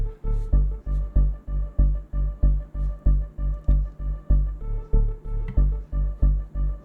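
Synth bass with its macro opened up, playing a steady pulsing pattern of repeated loud, throbbing notes with bright upper harmonics, about two to three per second, alone and up close.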